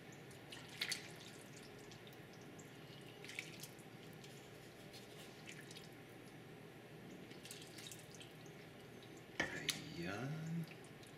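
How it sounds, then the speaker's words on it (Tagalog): Chicken broth poured into a pot of lomi noodles, soft trickling and splashing with a few faint drips and clinks, a louder pour near the end. "At pagkatapos guys, ay ilalagay na natin yung sabaw."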